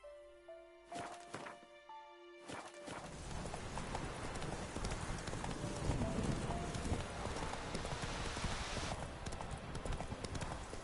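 Roach the horse trots in The Witcher 3 after a few sharp thunks at the start, then hooves clip-clop in a steady, dense rhythm over a rumbling game backdrop.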